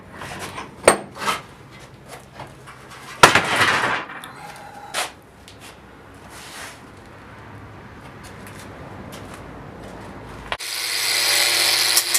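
A metal piece is deburred with a tool, giving several sharp scraping bursts and clanks at the start, a quieter rubbing stretch, then a loud steady grinding rasp at the end; no voices.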